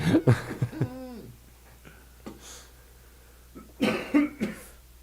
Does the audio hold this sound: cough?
yes